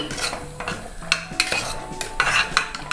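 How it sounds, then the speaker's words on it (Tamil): Bitter gourd pitlai stirred in a pot, repeated metallic clinks and scrapes of a spoon against the vessel in an uneven rhythm over a soft bubbling simmer. "அதுக்கப்புறம் ஒரு கிளறி விட்டுக்கலாம்."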